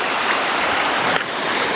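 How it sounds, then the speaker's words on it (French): A large mountain waterfall near Chamonix, pouring from high above along a hiking trail, roars as a loud, unbroken broadband rush with no pauses and no voices. "Il y a une giga cascade là-bas"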